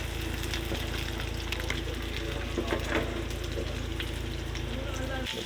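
Squid balls sauté in a hot pan with soy sauce for pancit batò, giving a steady, close, crackling sizzle that runs without a break.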